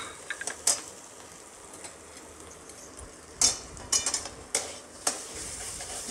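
Grated carrot frying in a pan with salt: a soft, low sizzle runs underneath while sharp metallic clinks and scrapes of stirring break in at irregular moments, a few close together near the end.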